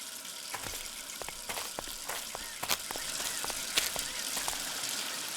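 Water sprays from a burst pipe indoors, a faint continuous hiss of gushing water broken by scattered crackles and splashes, with no voices.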